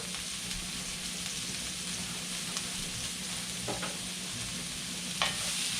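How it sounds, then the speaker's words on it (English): Sliced onions seasoned with salt and pepper sizzle steadily in a hot pan for a Philly cheesesteak, a constant frying hiss with a few soft stirring scrapes near the end and no talking. "you want to cook the onions till they're translucent"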